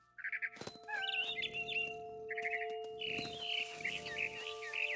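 A barn swallow chirping in the video game What Remains of Edith Finch, bursts of quick twittering calls repeating through the clip over sustained tonal music and occasional sharp clicks.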